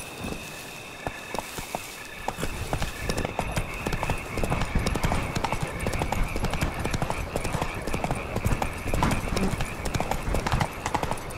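Roach, Geralt's horse in The Witcher 3, gallops with rapid rhythmic hoofbeats that build from a trot to a steady fast clatter, close and loud throughout.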